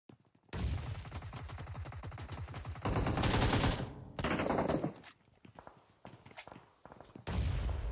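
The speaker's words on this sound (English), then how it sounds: "Oh, beautiful nade." Gunfire and a grenade explosion in the video game PUBG Mobile: rapid automatic bursts with a steady rhythm, then a louder blast-like burst, close and loud with short gaps between volleys.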